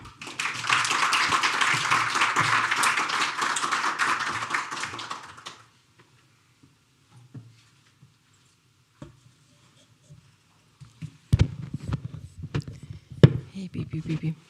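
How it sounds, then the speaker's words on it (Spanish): An audience applauds steadily for several seconds at an academic year opening ceremony, then it goes quiet before close tapping and microphone handling noises. "Les pedimos un caluroso aplauso para recibirla"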